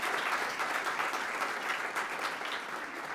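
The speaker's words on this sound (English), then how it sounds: "could you please stand just so folks can give you a round of applause?" A room of people gives a steady round of applause at a congressional event, even dense clapping that holds at moderate volume with no speech on top.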